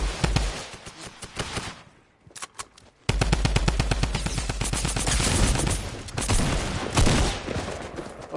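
Rapid automatic gunfire from a video game, loud sustained bursts with a brief lull before firing resumes and rattles on continuously.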